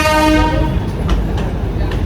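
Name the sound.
passenger train ride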